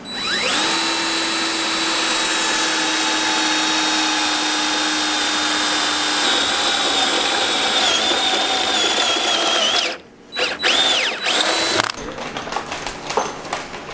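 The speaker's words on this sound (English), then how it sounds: "It's amazing how much a drill bit that's sharp works." A power drill with a sharp bit drilling through steel whines at a steady high pitch for about ten seconds, then stops abruptly and restarts in short uneven bursts.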